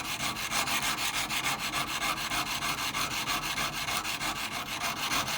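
A rust-damaged antique chisel is sharpened on a stone in regular back-and-forth strokes, about five or six per second, making a steady close-up rasping scrape.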